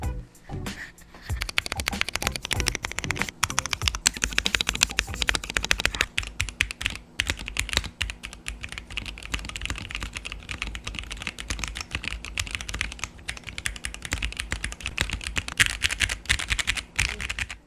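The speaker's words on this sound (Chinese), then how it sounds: "现在就让我们来听看这个键盘上手的打字音" Someone types steadily on a Montech MKey Pro mechanical keyboard with yellow linear switches, a PC plate and foam dampening. The key presses make a continuous stream of close, fairly soft clacks with no speech.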